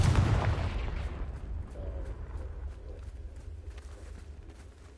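A Confringo blasting curse goes off in a Harry Potter video game. A loud, close burst erupts at the start, then rumbles and decays over several seconds into a fading crackle, with no voices.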